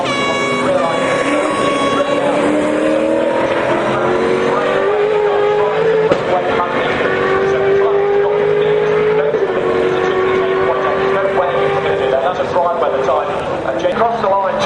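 A race car on a qualifying shootout lap at Bathurst, engine note climbing and dropping through the gears, loud and continuous under a commentator talking over it.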